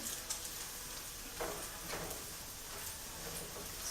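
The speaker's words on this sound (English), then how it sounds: "Bacon's cooking up very nicely. Getting crispier." Bacon frying in a pan gives a steady, close crackling sizzle with small pops throughout, quiet and continuous with no voices.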